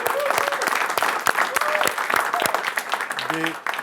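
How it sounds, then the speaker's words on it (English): An audience of Grammy U students at a music industry question-and-answer session gives itself a round of applause, dense and steady throughout, with a few louder individual claps and a brief whoop or voice near the end. "Give yourselves a round of applause"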